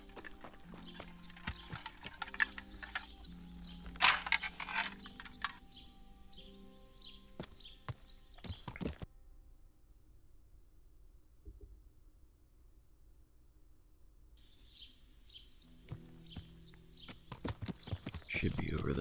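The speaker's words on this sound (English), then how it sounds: "There's my horse." Horse hooves clip-clop in the medieval game Kingdom Come Deliverance, coming in uneven bursts with birdsong around them and a near-silent stretch in the middle.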